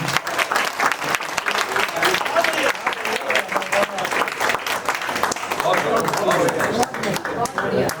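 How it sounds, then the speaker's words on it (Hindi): Loud, sustained applause from a large crowd at a Hindi poetry recitation, dense clapping filling the whole stretch with a few voices mixed in. "एक बार जोरदार तालियां पूरी सृष्टि के लिए।"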